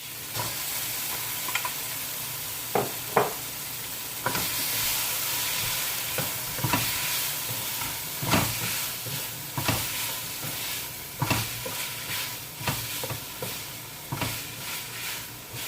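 Saltfish frying in a pan with seasoning, a steady hiss of sizzling oil broken by repeated scraping and clanking stirring strokes at an uneven rhythm, close and alone without speech.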